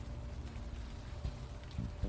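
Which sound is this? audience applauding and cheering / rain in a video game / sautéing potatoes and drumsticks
rain in a video game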